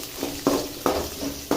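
Ginger and spices sauté in a pan for Kerala kadalai curry, giving a soft, steady sizzle. Scraping stirs recur about every half second.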